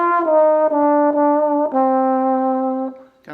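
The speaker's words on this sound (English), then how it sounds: "And the middle range of the trombone sounds kind of like this here." A tenor trombone plays in its middle range, holding a short series of sustained, warm brass notes that move between a few pitches, close and clear with no other sound.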